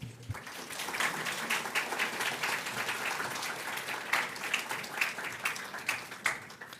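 A church congregation at a Sunday service applauds warmly. Many hands clap continuously and evenly for several seconds, a dense crowd sound heard from within the room, with a few louder individual claps standing out.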